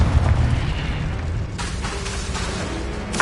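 A Confringo blasting spell explodes in the Hogwarts Legacy video game with a heavy low boom that rumbles and fades, followed by lighter crackling bursts.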